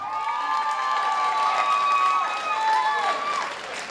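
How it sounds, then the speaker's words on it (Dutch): Crowd cheering at a regional pageant finale for the outgoing ambassador, with high shouts and whoops over a continuous roar and some clapping, loud and sustained. "Maak uw applaus voor de uittredende ambassadrice, de Leiambassadrice 2015."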